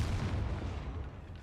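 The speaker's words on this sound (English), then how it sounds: "Maybe that fucking giant wand explosion" A giant wand explosion in Hogwarts Legacy: a loud, sustained low-heavy blast rumbling and decaying across the clip, with no voices.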